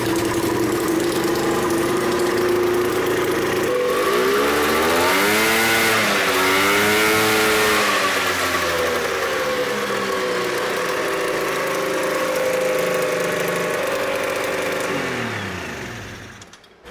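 A 750cc two-stroke engine swapped into a golf cart runs loud and steady at close range, its tone rising and falling as the revs climb and settle, then cutting off at the end.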